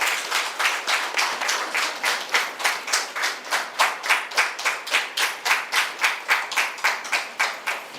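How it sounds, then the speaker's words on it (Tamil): Steady, rhythmic clapping from an audience at a Tamil book launch, bright and fairly close, continuing evenly without any voices over it. "ஒரு பெரிய கரகோஷத்தை கொடுக்கணும்னு கேட்டுக்கிறேன்"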